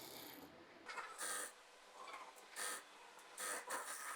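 A sewing machine stitching the fabric of a high-low umbrella palazzo, quiet rhythmic bursts of whirring needle action separated by short pauses, close and faint with no talk.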